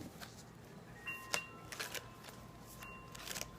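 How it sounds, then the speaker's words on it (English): Tarot cards being shuffled by hand in a quiet room, giving soft, papery riffles and slides in several short bursts across the moment, close and faint, with no talking. "I'm using my Siri deck, and I'm going to finish shuffling for you"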